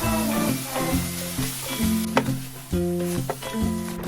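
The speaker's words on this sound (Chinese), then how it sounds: "下肉糜，快速把肉打散。" Minced meat stir-fried in hot oil with garlic and small chilies for Thai holy basil stir-fry, giving a steady close sizzle with occasional spatula scrapes under continuous background music.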